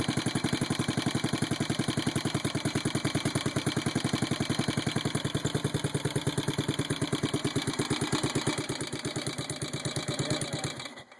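A Yamaha SR500 single-cylinder motorcycle engine idles after a cold start, a steady, loud, close thumping rhythm of firing pulses that holds even throughout and dips slightly near the end.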